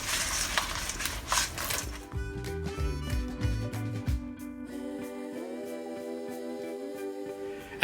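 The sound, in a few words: pork tossed in hot honey sauce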